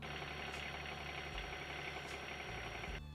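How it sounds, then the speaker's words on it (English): A tractor engine idles steadily with a low, rumbling drone that shifts slightly in pitch, running alone without any voices. "our next step is to start the tractor up and test it"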